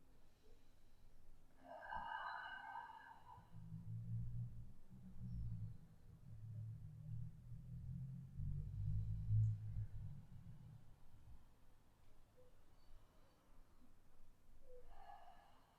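Slow, soft breaths held while curled forward in a seated back stretch for desk workers, low and muffled with steady rhythm, faint and close, with brief voice-like tones at the start and end.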